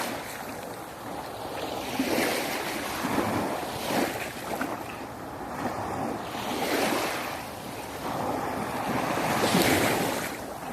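Ocean waves and surf wash continuously onto the sand at Bang Saen beach, with rhythmic swells breaking every few seconds under steady wind noise on the microphone, with no talking.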